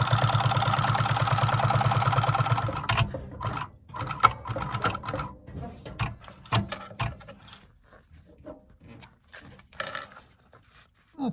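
A sewing machine stitches a Gucci tote bag, running in a steady fast whir for about three seconds, then stopping and starting in short bursts with mechanical clicks.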